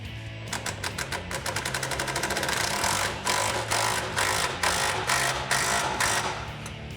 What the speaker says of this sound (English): And we'll get this bolt in and we'll tighten it up.